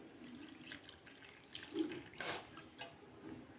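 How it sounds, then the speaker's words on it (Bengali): Lukewarm water mixed with sugar and jaggery is poured little by little into malpua batter in a home kitchen. The faint, trickling splashes come in short uneven spurts, close by, with no talking. "এখন আমি এই চিনি গুড় মিশানো জলটা অল্প অল্প করে ঢেলে দেব।"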